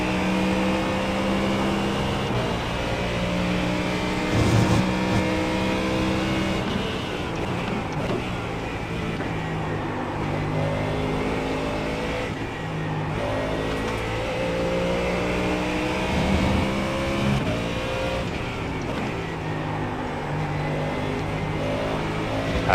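A Mustang GT3 race car in the iRacing sim at Spa, racing in the rain, engine roaring loudly and continuously with repeated upshifts climbing in pitch and a few downshifts, close and steady with no talking.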